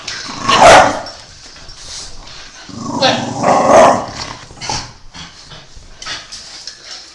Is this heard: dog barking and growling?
yes